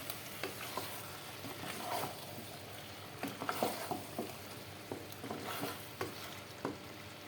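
Beef curry with radish cooking in a small amount of mustard oil, with steady frying sizzle and repeated stirring scrapes in a pan, close and moderately loud, no talking.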